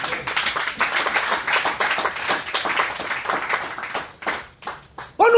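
A church congregation claps and cheers in praise, dense rhythmic applause mixed with voices filling the room, thinning briefly near the end before a loud burst returns.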